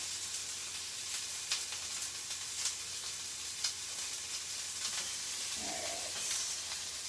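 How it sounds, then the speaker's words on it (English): Tempeh sizzles and crackles in a hot frying pan, a steady close hiss with occasional sharper pops and a brief scrape of stirring. "the tempeh is actually frying up really fast"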